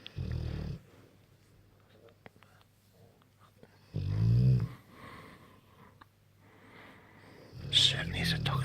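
A Bullmastiff dog snores close by, three loud rumbling breaths spaced a few seconds apart with quiet wheezy pauses between, alone.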